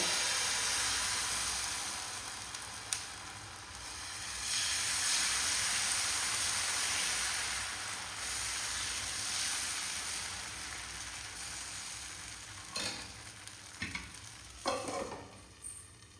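Cucumber dosa batter sizzles with oil on a hot pan, a continuous crackling fry with a few scraping and tapping sounds from a spatula.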